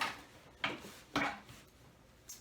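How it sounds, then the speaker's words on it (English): Bathroom storage items being put away produce two sharp clunks and knocks, drawer-like and close, spaced about half a second apart, followed by quieter handling noise and a faint tap at the end. "A squeaky sound like that."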